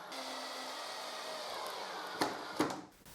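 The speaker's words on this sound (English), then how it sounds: "I push the plywood strip against the jigsaw tabletop, and I drive the screw, and I drive the other 2 screws" A power driver runs screws into a plywood strip on a jigsaw tabletop with a steady whirring drone, then two short, sharper bursts near the end as the screws seat.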